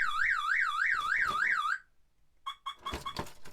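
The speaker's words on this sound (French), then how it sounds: "Alors, je mets l'alarme." A motorhome's vehicle alarm wails in a rising and falling warble, loud and close, then cuts off; after a pause it chirps briefly again, mixed with clunking handling noises.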